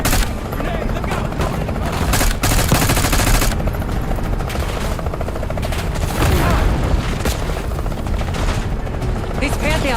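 A grenade blast and rapid automatic gunfire rage in Call of Duty: Black Ops 6 combat, with a helicopter rotor drone and sharp bursts layered continuously; voices shout over the dense battle noise.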